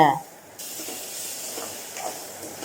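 Rava and tomato paste sauté in a pan for upma, a soft steady sizzle and hiss that starts after a brief voice and continues evenly.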